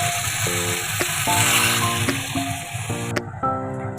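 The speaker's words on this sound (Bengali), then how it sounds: "আর একটু জল দিয়ে দিচ্ছি" A splash of water goes into a hot pan of frying spiced soybean balls, Gobindobhog rice and potato, setting off a loud bubbling sizzle and hiss up close, with music playing underneath.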